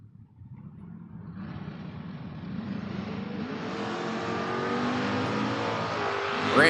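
Drag race launch of a Pontiac Firebird and a Chevrolet Vega at a strip, engines roaring and building steadily in loudness as the cars accelerate away, loud and continuous throughout with no talking.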